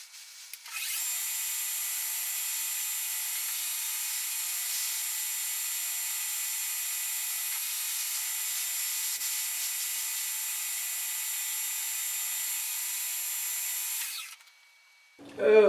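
A metal lathe takes cleanup passes at depth on a tailstock dial stop, a steady, bright cutting hiss and whir that holds evenly for about thirteen seconds before cutting off.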